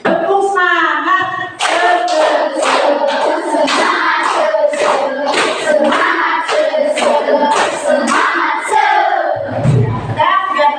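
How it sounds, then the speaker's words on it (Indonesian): A classroom of pupils claps out a rhythmic spirit clap, a series of sharp, loud group claps in an even pattern mixed with children's chanting voices, fairly close and energetic throughout. "Tepuk semangat."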